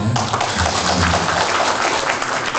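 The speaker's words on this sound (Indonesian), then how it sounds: "Tepuk tangan dong." An audience at an Indonesian gathering applauds in a dense, continuous wash of clapping that stays loud and steady throughout.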